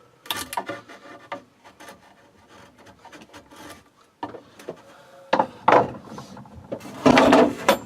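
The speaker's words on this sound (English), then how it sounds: "Just get a chisel, just take it off." A chisel scrapes and knocks stuck wood off a piece of a scrapwood side table, a run of uneven close scraping and tapping strokes that grow louder and rougher toward the end.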